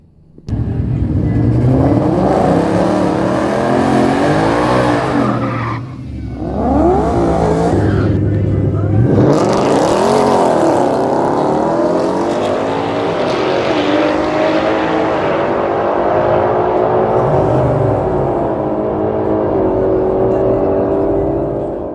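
A 2024 Whipple-supercharged Mustang GT V8 roars on a drag strip, its engine loud and continuous across the whole stretch, with a brief dip and surge partway through as it revs and pulls hard.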